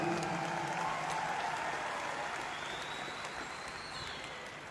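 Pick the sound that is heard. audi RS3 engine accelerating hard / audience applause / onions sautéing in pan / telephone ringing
audience applause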